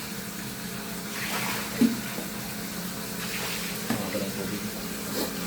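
Typhoon floodwater flows in a steady, continuous rush of moving water, moderately close and unbroken, with a couple of brief louder splashes along the way.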